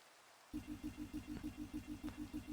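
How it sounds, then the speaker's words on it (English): Steady rain falls in a modded video game, a soft continuous hiss of water hitting the ground, overlaid by a repeating low rhythmic pulse from game ambience. "The relaxing noise of water hitting the ground."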